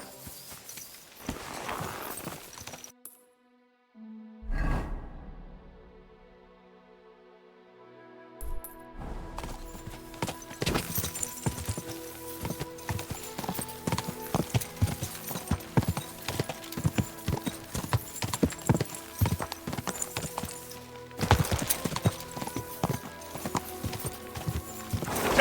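Horse hooves clip-clopping in the medieval video game Kingdom Come: Deliverance II, a steady stream of sharp close hoof strikes over a musical and ambient game soundtrack, with brief pauses and a quiet stretch early on.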